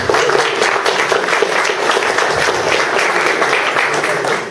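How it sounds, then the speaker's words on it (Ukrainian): Audience applause at a film presentation in a boxing museum hall, a steady wash of many hands clapping, loud and sustained throughout before tapering slightly at the end. "Дякую за аплодисменти."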